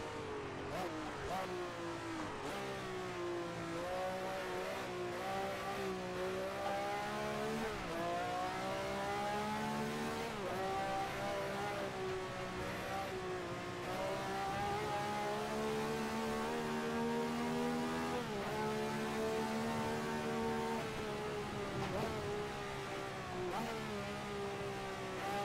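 A racing car engine in Assetto Corsa laps the full 1967 Nürburgring, revving loud and close throughout, pitch sweeping up and down through gear changes without pause.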